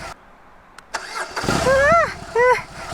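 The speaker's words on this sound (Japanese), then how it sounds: "エンジンかけましょうね" A BMW R 18 Classic motorcycle's boxer engine cranks after a few clicks and catches with a punchy, rising bark. It is heard up close at moderate volume, with a voice speaking over it.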